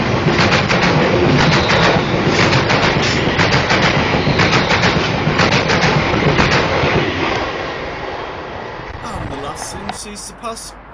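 A CrossCountry Class 221 passenger train running from Reading to Manchester Piccadilly passes Bescot Stadium with a loud, steady roar and rhythmic wheel clatter, gradually fading. Birds chirp near the end.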